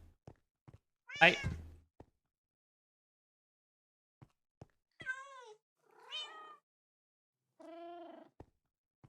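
A cat meows in a video game: one loud, drawn-out meow, then three shorter meows a few seconds later, scattered with faint clicks and thunks in otherwise silent surroundings.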